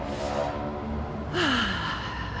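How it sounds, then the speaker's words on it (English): A single audible intake of a deep breath, a short breathy gasp that rises and then trails off with a falling vocal tone, heard close over a steady room background. "So you take a deep breath."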